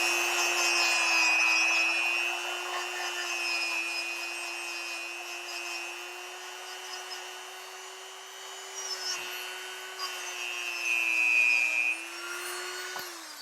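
A Dremel rotary tool with a wire brush whines steadily while cleaning a vintage hand plane, its pitch dipping and rising slightly under load, close and continuous with no speech.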